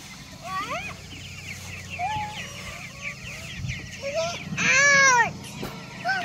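Hungry farm chickens cluck and squawk close by in a busy run, with rising calls overlapping almost continuously and one louder burst of squawks near the end, under a low background hum.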